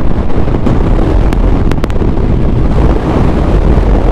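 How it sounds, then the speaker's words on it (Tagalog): Loud, rough buffeting of strong wind battering the microphone while riding a Honda Click 125i scooter on the road, a continuous roar with a few sharp clicks. "Lakas ang hangin."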